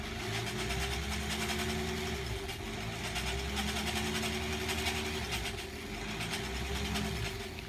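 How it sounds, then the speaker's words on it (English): A sewing machine runs steadily, stitching a quilt block close to the fabric edge, with a continuous motor drone and rapid needle chatter that holds at an even level throughout, no voices. "I'm going to just do my best to sew straight, I guess."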